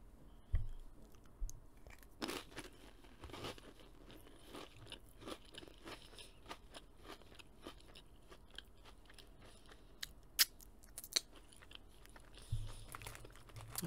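Crunchy salty crackers are bitten and chewed close up, with sharp crunches at irregular intervals and quieter chewing between them, and no talk.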